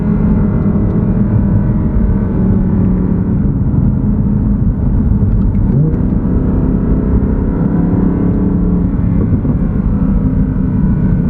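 A rear-wheel-drive Audi R8 V10 RWS with over 500 horsepower drives on the road, its engine a loud, steady, continuous roar heard from inside the car with no break.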